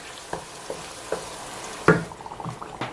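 A spoon scrapes and stirs through pepper and blended tomato frying in a pot, giving soft, irregular knocks and scrapes over a faint sizzle, quiet and close.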